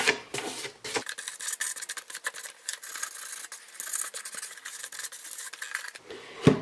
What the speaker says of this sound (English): just buff it and get rid of any of the little spots that are still remaining